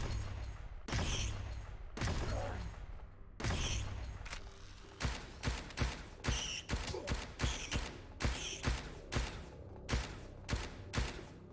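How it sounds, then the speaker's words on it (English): Submachine gun fire in the game Subterrain, starting with a few spaced heavy shots and then settling into a quick, steady stream of rounds, close and fairly quiet overall. "This SMG is kind of atrocious."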